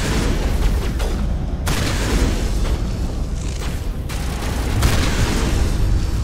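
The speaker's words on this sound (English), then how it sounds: "Explosion!" Explosions in the Mass Effect video game: a series of loud, heavy booms that rumble together and cut off abruptly several times, with no talking over them.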